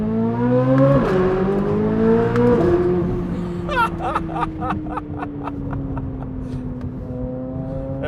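A C8 Corvette Z06 engine revs with a rising, strained tone and then holds steady around 4,500 RPM, followed by a string of sharp crackles and pops. It is loud and close, with no talking.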